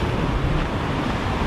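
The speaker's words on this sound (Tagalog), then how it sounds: "Grabe, sampa pa pala yung alon dito." Dense, continuous roar of surf with heavy wind rumbling across the microphone, loud and unbroken throughout.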